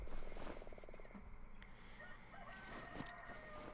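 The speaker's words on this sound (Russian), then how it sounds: "Петухи орут." Roosters crow in the video game Darkwood, several overlapping calls over a dense outdoor ambience with frog-like croaking, moderately loud and a little distant.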